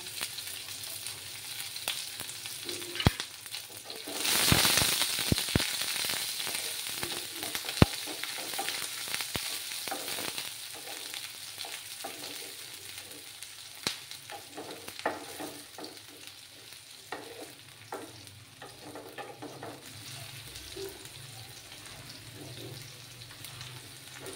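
Chopped onions frying in oil in a pan for an egg and potato dish, a steady close sizzle with a loud burst of hissing early on, then scattered clicks and spatters as it settles, no voices.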